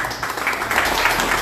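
A crowd applauds to welcome Juan Rojas Barrios at a 70th birthday celebration, with dense, continuous clapping that stays loud and steady throughout.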